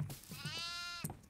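A goat in the horror video game Devour lets out a single drawn-out, wavering bleat, loud and close, framed by a few short thumps and knocks before and after.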